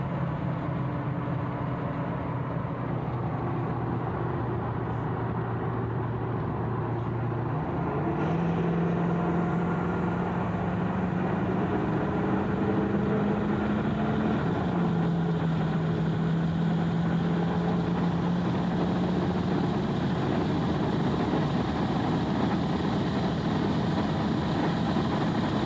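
A Ford 6.4 diesel pickup with a big turbo and Icon heads, built for towing, accelerates hard: a steady low drone climbs in steps through the gears as a rising turbo whistle sits above it, with no talking.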